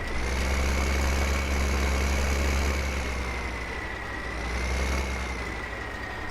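A tractor engine in Farming Simulator 2015 idles steadily with a low rumble and a constant whine, loud and close, holding the same note with only slight swells and no talk.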